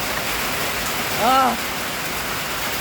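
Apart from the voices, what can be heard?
rain falling, heard from the back porch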